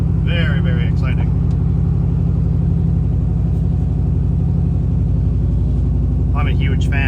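Steady low engine drone and road rumble from inside a truck with a mid-mount turbo while driving, continuous throughout, with someone talking over it.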